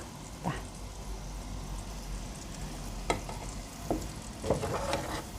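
Pork belly, boiled and marinated, frying in hot oil with a steady low sizzle and bubbling, plus a few sharp crackles and pops that stand out near the end.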